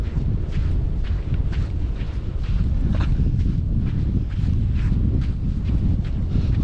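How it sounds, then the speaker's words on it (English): Loud, steady wind roaring and buffeting against the microphone on a ridge, with a low rumble throughout and no voices. "Super windy up here"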